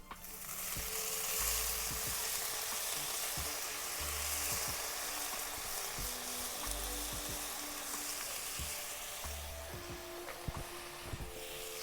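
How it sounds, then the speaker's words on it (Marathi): Chopped wild kena greens hit frying chillies in a hot pan, setting off a loud, steady sizzle that runs throughout, with faint scraping stirs now and then and no talking. "मिरच्या पण परतले ते केनाची कापून घेतलेली भाजी टाकून घेते"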